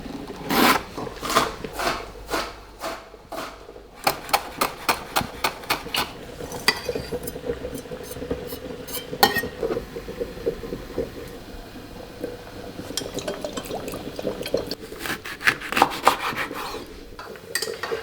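A spoon clinks and scrapes against a small dish while mixing a dipping sauce of chili, calamansi juice and fish sauce, with rapid irregular taps and stirring scrapes close up, no talking.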